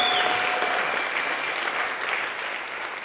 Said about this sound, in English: give yourselves a round of applause for being crazy